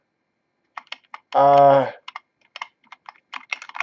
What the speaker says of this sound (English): it's not a mechanical keyboard